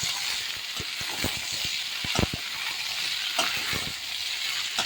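Garlic cloves and onion frying together in a pan, a constant close hiss of sizzling oil, with irregular scraping thumps and clacks of a spoon mixing through the pan. No voices.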